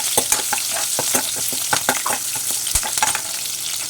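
Green chillies and curry leaves frying in hot oil in a pan for a rice-and-dal dhokla, with dense crackling sizzle and sharp pops as they are stirred.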